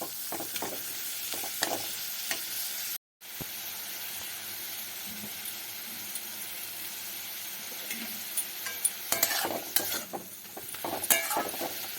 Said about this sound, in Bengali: আস্তে আস্তে নাড়তে থাকবো যতক্ষণ না পর্যন্ত খুব ভালো করে ভাজা হয়ে যায়